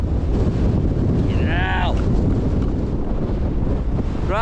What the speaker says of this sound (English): It's far too windy up there.